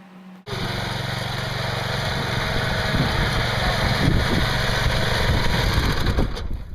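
A small homemade tractor's engine starts up and runs steadily with a loud, high-pitched buzzing drone, close by and continuous, with no talk over it.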